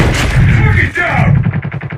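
Rapid gunfire in the mobile shooter game Call of Duty Mobile, loud continuous bursts of shots with a rhythmic automatic-fire pattern toward the end, over dense in-game noise.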